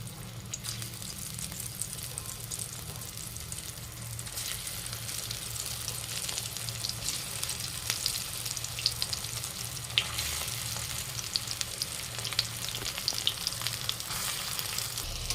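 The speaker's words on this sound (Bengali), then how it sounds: "ধোকাগুলো ভেজে নেব।" Pieces of bottle gourd dhoka shallow-fry in hot oil, producing a soft, continuous sizzle with faint crackles and light spatters throughout.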